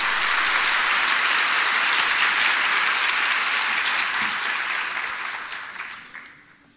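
A large audience at an event on Turkish income tax gives sustained, dense applause, which holds strong for several seconds and then gradually thins out and fades away.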